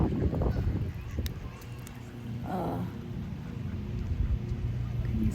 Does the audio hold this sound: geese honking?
yes